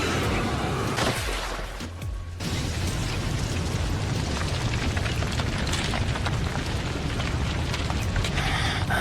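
In the Naruto Shippuden anime, a Fire Style Dragon Flame Jutsu attack erupts during Sasuke and Itachi's fight. A loud, dense, roaring blast rushes on continuously, with a brief dip early before surging back.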